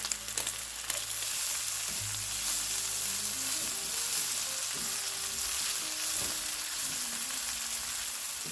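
Sausage with minced garlic fries in a pan, a constant crackling sizzle at moderate level, with occasional stirring scrapes and low kitchen hum beneath, no voices.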